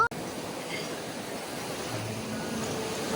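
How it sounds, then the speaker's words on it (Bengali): Sea waves heard from nearby at night, a soft continuous wash of surf with gentle swells, faint and steady with no voices. "আর যে আওয়াজটা আসছে ওটা একদম সমুদ্রের আওয়াজ"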